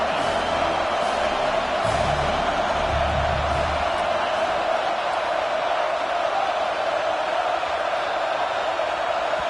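A loud stadium crowd roars at an American football game, a dense, sustained wash of cheering and noise that stays steady and full throughout with no break.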